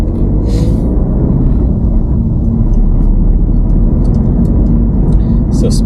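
A car pulls away in first gear, a low steady engine rumble building gently under a driving lesson, with a voice speaking over it.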